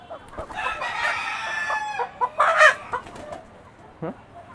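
Fancy chickens kept on a rooftop, with a rooster crowing close and loud alongside scattered clucks and short calls from the flock, a final brief squawk near the end.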